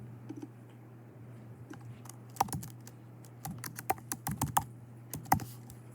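Code being typed on a computer keyboard during a programming lab walkthrough, with scattered key clicks that build into quicker bursts near the end over a low steady hum, close and fairly quiet, with no speech.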